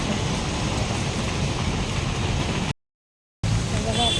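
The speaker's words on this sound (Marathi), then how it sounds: "इथं बघा पाऊस पडतोय मस्त" Rain pours steadily outside a DMart store during monsoon shopping, a dense even hiss that cuts out briefly to silence near the end before resuming.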